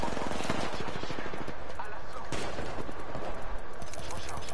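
Rapid bursts of gunfire in a video game, dense and continuous with sharp repeated cracks like automatic weapons, loud and close throughout.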